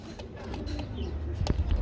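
Pigeons at a Bangladeshi pigeon market, Baghdadi breed among them, coo in low, throaty pulses over a steady crowd murmur, with a brief burst of louder cooing near the end.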